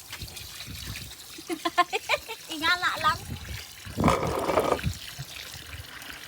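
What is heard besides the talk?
water poured while washing pig chitterlings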